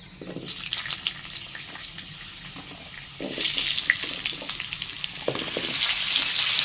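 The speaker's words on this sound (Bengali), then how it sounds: "এবার আলুগুলোকে একটু ভালো করে ভেজে নিতে" New potatoes frying in oil in a home kitchen, a steady crackling sizzle with scattered pops and clinks, close and moderately loud, growing a little busier toward the end.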